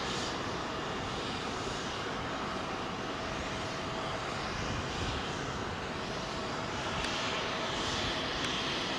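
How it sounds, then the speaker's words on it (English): An American Airlines Boeing 777 banking into a quick turn after takeoff from Heathrow, its jet engines giving a continuous, fairly distant broadband rumble that holds steady throughout with no talking. "that was a quick turn for that American triple, man"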